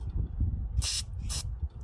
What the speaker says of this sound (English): So, I'll show you what I do for carb spray.